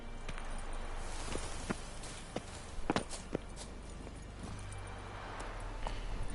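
A horse's hooves in the video game The Witcher 3, a steady run of muffled clip-clop thuds over constant background noise, moderately near.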